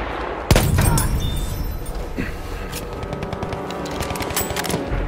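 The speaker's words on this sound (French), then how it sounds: "Une mitrailleuse hostile." Enemy machine gun firing in a First World War video game set at Soissons: a sharp shot opens a sustained, dense battle din of gunfire and distant booms that continues steadily throughout.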